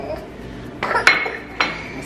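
A spoon clinks and scrapes against a bowl while banana bread batter is stirred slowly, a few sharp knocks over a soft background.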